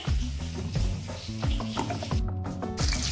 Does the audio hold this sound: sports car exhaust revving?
no